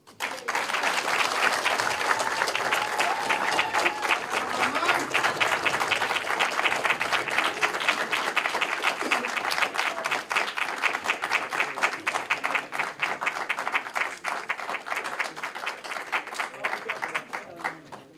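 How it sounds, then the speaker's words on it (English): Sustained audience applause at a regional state address in Hardap, Namibia, steady dense clapping filling the whole stretch at moderate distance, with no voices over it. "Can we add once more the applause?"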